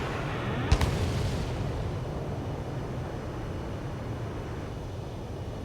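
A missile launched from a fighter jet in the game Ace Combat 7: Skies Unknown, a sharp close crack followed by a steady loud roaring rush of engine and wind that continues throughout, with no speech.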